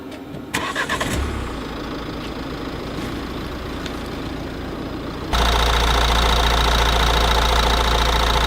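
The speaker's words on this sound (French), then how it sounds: "Il a détecté donc le moteur qui tournait" A car engine cranks and fires into a steady, loud idle after several seconds of quieter ambient noise, with no talking over it.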